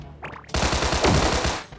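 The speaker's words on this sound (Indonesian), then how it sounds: "Tembak dia." Rapid automatic gunfire from the Sausage Man shooting game, a loud sustained burst of evenly spaced shots following a short softer lead-in.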